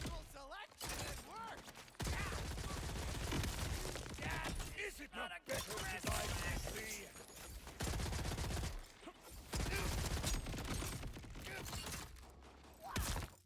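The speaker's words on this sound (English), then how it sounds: "I'm firing my gun." Borderlands combat with rapid bursts of gunfire and sticky grenade detonations, clustered dense volleys separated by short gaps, loud and busy, with voices occasionally under the din.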